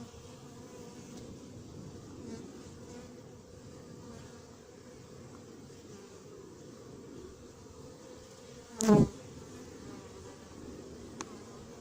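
A low buzz of bees hums steadily around a beehive throughout, with one louder close buzz of a hornet passing briefly near the end.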